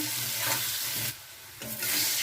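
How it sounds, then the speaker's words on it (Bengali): Potatoes fry in hot oil, a close, steady sizzle that drops briefly to a quieter hiss midway before surging back to full crackle. "তো এবার আলুগুলো ভেজে নেব।"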